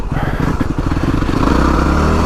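A Yamaha WR250R dual-sport motorcycle rides a loose dirt trail, its engine loud and close with a steady, throbbing drone that rises slightly as it pulls ahead.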